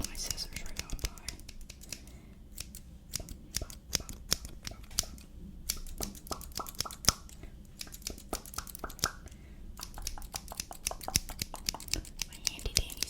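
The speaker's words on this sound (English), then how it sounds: "That I'm going to be cutting. I also have my scissors" Scissors snipping through a paper grocery bag, a quick run of crisp, close cuts with short pauses between bursts and faint soft whispering underneath.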